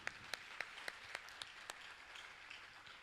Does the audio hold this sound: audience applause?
yes